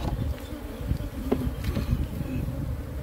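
A large swarm of bees buzzes continuously around a shed, a dense close drone with a few faint knocks and movements mixed in.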